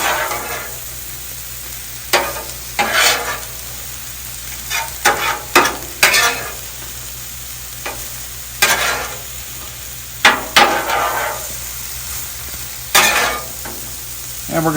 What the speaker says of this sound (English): So we're going to give all of that a good mix, get all of those flavors incorporated.